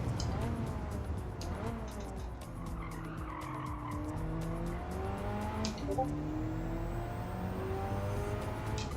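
A race car lapping Spa in a racing video game, the engine note climbing and dropping through gear changes out of La Source and down toward Eau Rouge, loud and continuous with tire squeal and faint commentary underneath.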